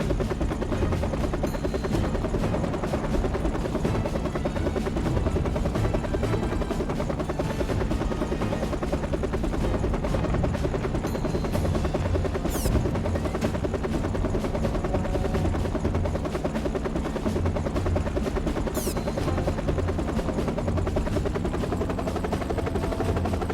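Helicopter gunship flying in the video game Battalion Wars, a loud, continuous rotor drone and engine hum that holds steady throughout, with a couple of faint high whistles passing by.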